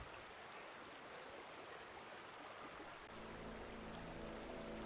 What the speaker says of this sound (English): you should be able to hear running water